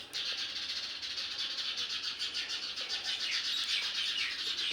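House sparrows squabbling in a garden, a dense, continuous flurry of rapid high chirps from several birds, fairly close and unbroken.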